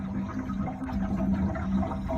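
CO2 gas bubbling through a Spike Flex+ carbonation stone in a beer fermenter, a soft steady gurgling and burbling hiss, faint and continuous with no voices.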